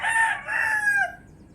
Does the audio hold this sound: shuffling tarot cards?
no